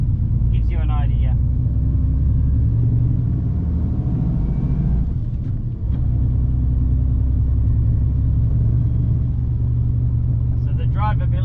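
The engine of a Unimog U1300 truck hauls up a hill in a steady low droning rumble, loud and close, with faint brief mechanical clicks in between.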